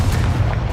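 Levioso spell cast in the game Hogwarts Legacy, a short, loud, deep magical thump with a dense low rumble and a hint of shimmer, lasting under a second with no talk.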